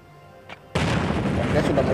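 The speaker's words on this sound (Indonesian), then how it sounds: "Oke, sudah meledak dan boom." A C4 charge detonates in the zombie survival game Last Day on Earth: a faint click, then a sudden loud boom that rolls on as a sustained roaring blast to the end.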